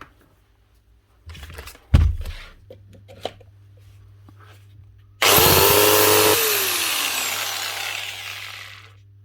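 A 4.5 inch Bosch power tool, sputtering from a possible motor fault, gives a few scattered knocks and clunks, then starts with a loud, harsh whine that holds and slowly fades.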